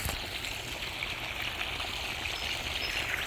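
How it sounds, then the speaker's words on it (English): Water rushing steadily from a swimming pool during backwashing, heard as a constant close-up trickling flow with no breaks over a few seconds. "this is me back washing my swimming pool"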